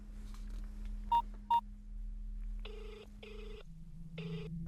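A telephone is dialed in a Hindi-dubbed South Indian horror film: two short keypad tones, then three evenly spaced ringing tones over a steady low hum, with no one speaking.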